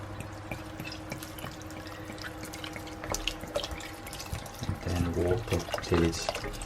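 Tap water runs into a pot for prawn bisque in a home kitchen, a steady splashing stream with drips and clatter that grows louder near the end.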